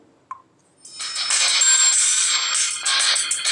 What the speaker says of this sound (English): I'm just gonna play a music track on the speakerphone and let you hear for yourself how well the audio comes out.